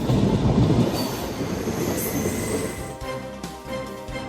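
An express train rolls along the rails, a loud close rumble with wheel clatter and metallic squeal, easing slightly toward the end.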